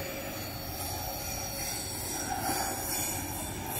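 VLI freight train hauled by a broad-gauge C44 locomotive climbing the Serra do Mar, wheels squealing steadily against the rails in a continuous loud metallic screech with a low rumble underneath.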